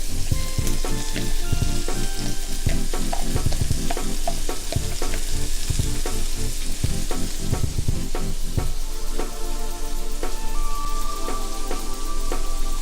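Cabbage and carrot being stir-fried in a pan give a loud, close, continuous sizzle, with repeated scraping and clattering from stirring. No voices are heard.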